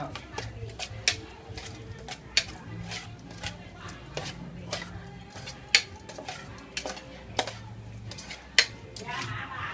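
A spoon scrapes and clinks in a pot as food is stirred, with grilled fish and toasted rice being mixed, producing irregular close taps and scrapes over a low background murmur.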